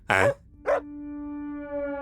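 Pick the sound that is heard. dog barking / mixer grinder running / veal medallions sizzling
dog barking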